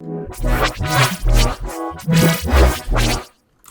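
A dense, choppy granular synth texture resampled from a whole song in Quanta pulses in uneven bursts with harmonic tones, stopping abruptly near the end.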